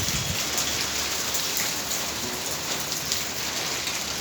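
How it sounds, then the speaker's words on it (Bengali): Rain pours steadily onto a house roof of tiles, a dense, even hiss of drops at close range with no pauses and no voices. "পানি পড়তেছে বৃষ্টির পানি"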